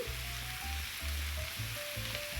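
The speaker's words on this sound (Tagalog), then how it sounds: "Same kawali lang, ilalagay na din natin itong karne." Pork meat searing in a frying pan for estofado, heard as a steady close crackling sizzle with low pulsing hum beneath it.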